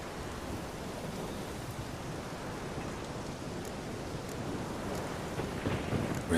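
A thunderstorm rages in The Witcher 3: Wild Hunt: steady, dense rain and rumbling storm noise roar continuously, swelling slightly louder near the end.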